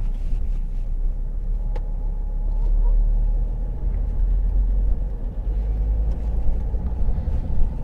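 A car drives on the road from Sturry to Canterbury, past roundabouts and junctions on a hot day with the air conditioning running, giving a steady low engine and road rumble heard from inside throughout.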